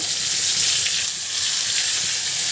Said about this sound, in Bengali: তো এবার গরম তেলে পটলগুলো আমি দিয়ে দিব